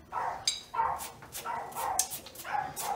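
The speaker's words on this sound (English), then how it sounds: "listen to some dogs acting ridiculous in the backyard." Dogs barking repeatedly outdoors, several sharp bursts in an uneven rhythm, fairly close with some yips mixed in.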